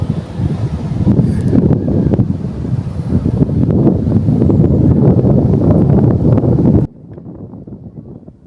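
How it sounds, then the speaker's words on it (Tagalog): Strong wind roars across the microphone on a seashore where rough waves are breaking, a loud, constant buffeting with surf mixed underneath, until it suddenly drops to a quieter wash near the end. "Kalakas ng alon inang oh."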